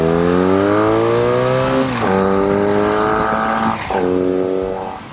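A 40-year-old carbureted 120-horsepower motorcycle engine runs loud and close, rising in pitch as it revs, then dropping twice at about two and four seconds before climbing again.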